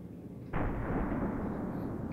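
A single FN P90 shot fired in semi-auto mode in the World of Guns firearm simulation game: one abrupt, loud burst that cuts in partway through and leaves a sustained noisy tail, with no speech.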